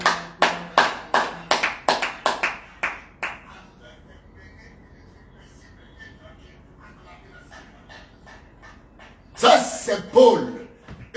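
A church congregation claps hands in praise at a morning prayer service, with a quick rhythmic run of sharp claps at the start, a quieter stretch with voices, then another loud burst near the end.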